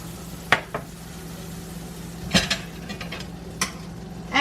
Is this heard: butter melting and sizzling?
yes